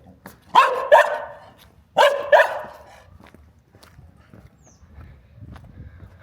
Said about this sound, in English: Wow, another dog.